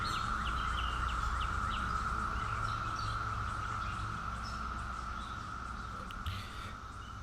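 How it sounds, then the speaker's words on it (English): A steady, loud drone of Brood X periodical cicadas in a mid-Atlantic US suburb fills the air continuously, with faint bird chirps scattered over it in the background. "behind the chirping of the birds and other suburban noises is the roar of brood 10 of cicadas"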